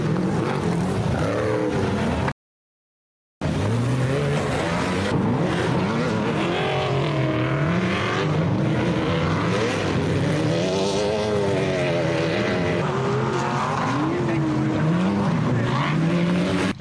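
Class 1 off-road race car driving hard, its engine loud and close with rising and falling revs as it accelerates and shifts, broken by a brief gap in the sound.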